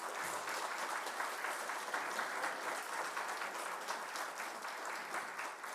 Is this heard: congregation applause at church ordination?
yes